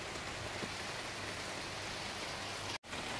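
Steady rain falls on a rainy day at an outdoor barbecue, a constant dense patter and hiss with no voices, briefly cutting out near the end.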